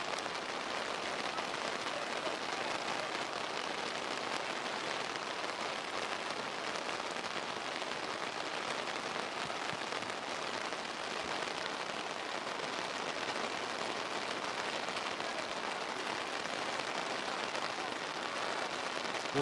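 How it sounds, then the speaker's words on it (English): Heavy rain pouring onto a football pitch during a Jamaica Premier League match, a dense steady hiss that does not let up, with commentary faintly beneath. "The rain doesn't seem to be slowing down any minute soon."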